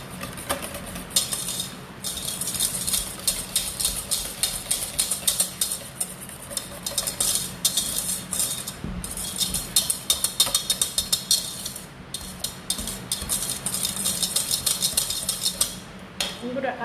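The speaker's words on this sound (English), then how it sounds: "all I'm going to do is give them a whisk with this" A whisk beats liquid ingredients, including oil, in a bowl, giving quick rhythmic metallic clinks and scrapes that run almost continuously with brief pauses.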